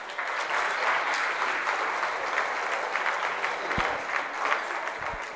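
An audience at an evening flower market opening event applauds the sponsors, with a steady wash of clapping from a large crowd and a few louder thumps near the end.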